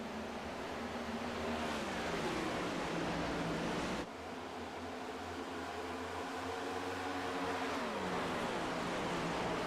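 Race cars running side by side at Dover in iRacing, a loud continuous engine roar with pitch sweeping up and down as the cars accelerate and lift through the turns, with no voices.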